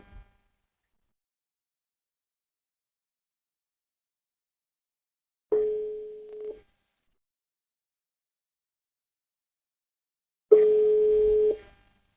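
Outgoing phone call ringback tone: two separate steady electronic buzzes about a second long, spaced several seconds apart in otherwise near silence.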